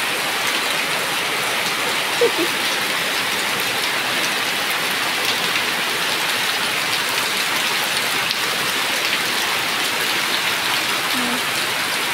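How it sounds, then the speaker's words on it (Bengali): Heavy rain pours steadily onto surfaces outdoors, a loud, continuous dense patter that stays even throughout, with a few faint sounds briefly poking through. "এখন কত বৃষ্টি হচ্ছে, আর ও বৃষ্টির জল পেয়ে"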